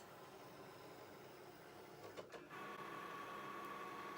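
A Cricut Explore Air 2 cutting machine cuts paper with a steady mechanical whir and hum, a brief shift in motor tone midway followed by a sustained whine, heard close with no voices.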